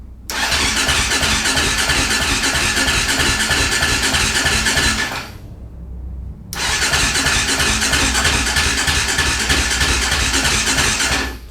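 A KTM 525cc engine in a cross kart fires up and roars loudly and steadily close by, cuts out for about a second, then catches and runs hard again.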